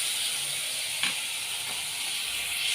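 Small cut potato pieces fry in a pan with a steady close hiss and sizzle, with a couple of faint stirring scrapes and no talking.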